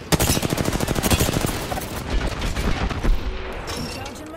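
Rapid automatic gunfire bursts in an Apex Legends match, loud, dense and close, with fast repeated shots for the first couple of seconds followed by scattered louder booms and impacts.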